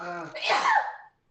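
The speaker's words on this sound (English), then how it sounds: "Probably sneezing." One sharp sneeze bursts out close and loud, opening with a short vocal intake and followed by brief silence.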